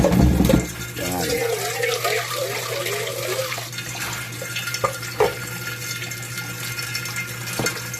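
Tap water running steadily into a sink while tilapia fish are washed by hand, a continuous close splashing stream with occasional knocks, and a voice talking briefly over it.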